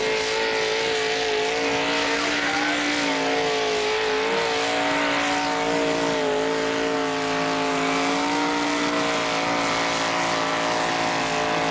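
A pulling tractor's engine roars steadily at a 1986 tractor pull in Colbinabbin, a loud, sustained drone with strong harmonic tones wavering slightly in pitch as it labours, with no voices over it.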